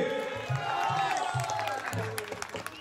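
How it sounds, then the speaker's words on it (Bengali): An audience at a temple concert during the annual programme at Bhirangi Kali Mandir, Durgapur, claps together in a dense, sustained round of applause, with music and a voice carrying faintly underneath. "তাহলে জোর করে এবার হাততালি হবে সবাই মিলে।"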